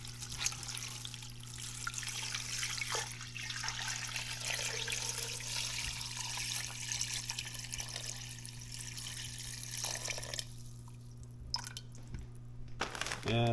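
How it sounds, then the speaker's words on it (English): Water pours steadily over dried kombu seaweed in a kitchen, a continuous splashing trickle lasting several seconds under a constant low electrical hum, then tapering into a few drips and clinks. "And just enough water to cover."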